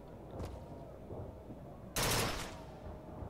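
A burst weapon fires in Bioshock Infinite, a faint short shot early on and then one loud, sharp burst midway that fades slowly into quiet room tone.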